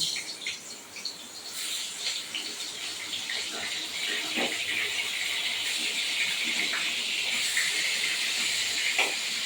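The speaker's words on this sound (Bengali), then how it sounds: "আমার এদিকে সরিষার তেল গরম হয়ে গেছে, আমি এবার এদিকে দিয়ে দিচ্ছি ইলিশ মাছের মাথাগুলো একটা একটা করে ভেজে দিচ্ছি" Hilsa fish heads fry in hot mustard oil, giving a steady loud hiss with scattered sharper crackles and pops, close by, alone and without talk.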